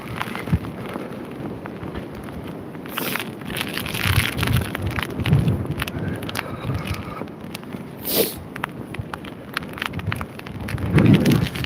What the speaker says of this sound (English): very heavy hitting rain. It's almost like it's ice, virtually.